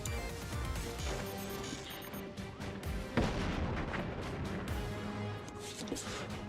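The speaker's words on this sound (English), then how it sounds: "Yeah, so now it's two cannons against two howitzers." Cannons and howitzers firing in a strategy video game, a dense stream of booming artillery shots and blasts over several seconds, with one sharper crack midway amid busy game noise.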